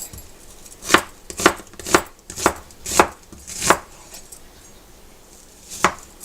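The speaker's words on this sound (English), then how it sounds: "Chop this onion up." A knife chops an onion on a cutting board in seven crisp, close thuds, six in a fairly even rhythm, then a pause before a final chop.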